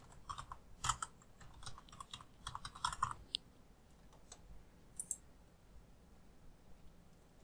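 Someone types a password on a computer keyboard, with a quick cluster of soft close key clicks, then sparse scattered taps trailing off into quiet.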